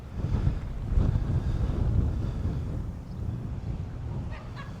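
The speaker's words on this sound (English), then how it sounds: "we do have a land breeze today" A land breeze buffets the microphone at a beach in Point Pleasant, New Jersey, a steady low rumbling gust with distant surf underneath and no speech.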